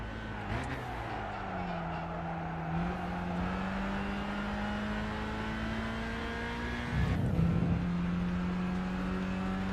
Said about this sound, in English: The engine sounds are not great in this